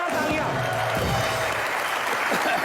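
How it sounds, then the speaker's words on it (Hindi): Audience applause for two guests being welcomed onto a Hindi talk-show stage, steady and dense throughout, with a host's voice running underneath. "फवाद और सोनम के लिए जोरदार तालियां।"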